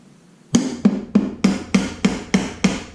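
A metal C-clip is tapped down onto a transmission counter shaft bearing during a Honda differential repair: eight sharp, evenly spaced hammer taps, close and fairly loud, each ringing briefly, with no talking.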